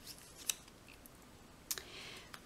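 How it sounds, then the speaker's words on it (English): A small circle die punch cuts through paper window sheets in two sharp, close clicks spaced over a second apart, with quieter ticks and handling noise between them. "With the smallest one, you're going to cut out 2 of the window sheets."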